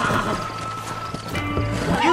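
A horse in the Red Dead Redemption video game snorts and whinnies among clopping hooves, and a rising neigh stands out near the end over the game's background sound.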